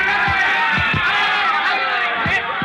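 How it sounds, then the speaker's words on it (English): A loud, dense crowd roar at a boxing fight fills the whole stretch, steady and close, with a few low dull thumps cutting through it. "the thud of their punches echoing dully above the roar of the crowd"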